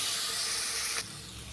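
About one and a half bowls of water is poured into a hot pan of spiced eggplant masala, making a soft hissing rush that cuts off abruptly after about a second, leaving a faint, quieter hiss.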